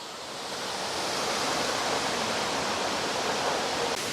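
Steady, dense rush of a waterfall in Valparai, a continuous broadband roar that swells in over the first second and holds evenly, close and loud.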